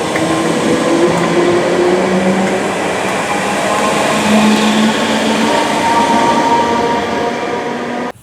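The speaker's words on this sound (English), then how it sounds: "there goes 508111 The Beatles Story livery on its way to Chester" Merseyrail Class 508 electric unit 508111, in Beatles Story livery, pulls out of Spital station in the rain, bound for Chester. A steady, loud rumble of motor and wheels holds for about eight seconds, with faint squeal tones over it, then cuts off abruptly.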